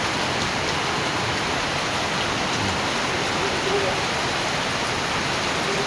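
Heavy rain pours down in a dense, steady hiss with no break, loud and close, as if falling on roofing and ground nearby.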